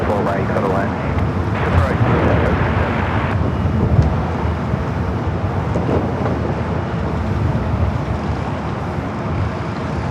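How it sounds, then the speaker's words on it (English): An Airbus A321neo airliner arriving at Los Angeles airport from Charlotte, a broad steady engine roar with low rumble filling the whole stretch, heard under ongoing talk. "It's the flight coming in from Charlotte. A321 neo."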